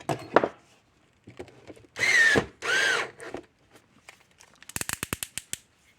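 A power screwdriver drives screws to fasten the lid onto a Gallagher unit, giving two short rising whirs in close succession, followed by a rapid series of sharp clicks and small handling knocks.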